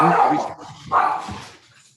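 Two loud yips or barks from a dog, one at the start and another about a second later, indoors, with a quieter tail of noise fading toward the end.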